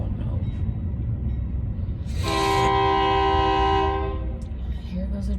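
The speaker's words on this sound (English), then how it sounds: "Here goes a train right before I get to" A train rumbles by close at hand, its horn sounding one long, loud, steady blast over the heavy low roar of the passing cars.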